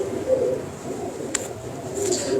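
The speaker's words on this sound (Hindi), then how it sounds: "कमाल का कबूतर आ गया।" A champion pigeon at a Lahore loft gives soft, low cooing notes close by, a short repeated murmur with a faint tick in the background.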